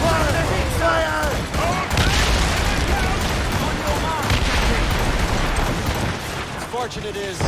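Naval cannons fire broadsides during a ship battle in the video game Assassin's Creed Rogue: a dense, continuous roar of booming shots and battle noise, with voices shouting over it throughout.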